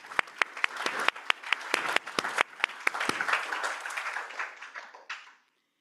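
Applause from an audience at a research workshop's final presentations, with a few sharp near claps standing out over dense clapping that runs about five seconds before fading and stopping.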